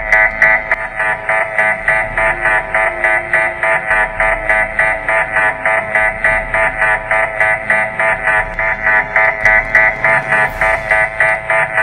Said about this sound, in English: Computer, what is that alarm all about?